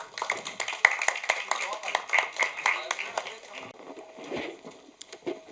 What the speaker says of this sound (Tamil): ஒரு கைத்தட்டலோட லெட்ஸ் வெல்கம் ஆதித்யா கதிர்.